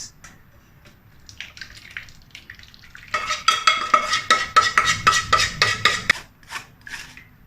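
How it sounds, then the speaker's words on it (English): Thick coconut milk with pandan leaves poured through a wire mesh strainer, a close, trickling splash with metallic taps and clinks that grows busy in the middle and then thins out. "now I will take the coconut milk, pour through a wire mesh strainer to remove the pandan leaves."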